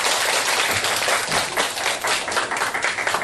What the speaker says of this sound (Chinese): 我们以最热烈的掌声来欢迎我们刘教授